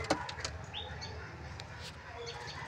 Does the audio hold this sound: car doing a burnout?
no